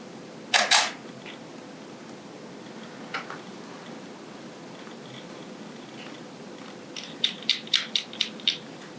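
A camera shutter fires at slow speed during an exhibition demo, a sharp click near the start, a faint one later, then a quick run of several crisp clicks near the end over quiet room tone.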